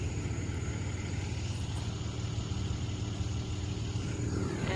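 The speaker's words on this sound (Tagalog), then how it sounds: "And that's his truck." A tow truck engine runs steadily nearby, a constant low rumble with a faint hum above it, no voices.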